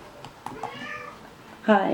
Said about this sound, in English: My cat Potato says hi.